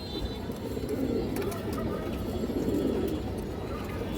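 Pigeons in a home loft coo in low, throaty, repeated burbles close by, forming a continuous murmuring chorus over a steady background.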